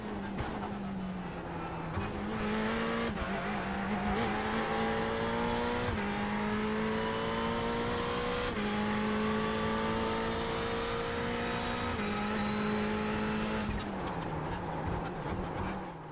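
Ferrari GT3 race car in the iRacing sim, its loud engine droning steadily with rising and falling pitch as it brakes hard and locks up the brakes entering a corner, heard alone with no talk.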